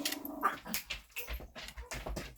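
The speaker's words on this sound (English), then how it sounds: "I don't know why my dogs are barking" Dogs whimper and give short, yappy barks in quick irregular bursts, fairly close and not very loud.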